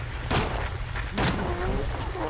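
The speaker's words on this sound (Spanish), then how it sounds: "Quiero probar la pistola, a ver..." A pistol fires in the video game Silent Hill Origins, played on PSP, giving two heavy booming shots about a second apart over a constant low game ambience.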